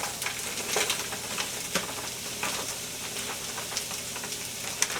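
Okra frying in a pan, a close crackling sizzle with scattered pops and stirring scrapes over a steady hiss.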